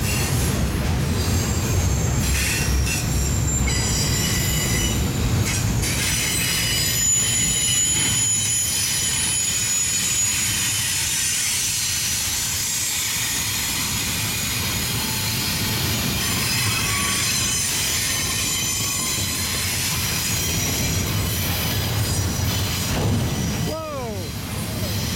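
A train rumbles past continuously and loudly, with high metallic wheel squeals rising over the roar as it slows.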